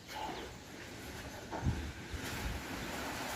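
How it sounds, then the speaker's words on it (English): Wind gusting outdoors during work on a Peugeot 504 Diesel, a steady broadband rush and rumble of wind noise on the microphone that swells briefly, with no talking. "Oh, hier komt die wind weer. Here comes the wind again."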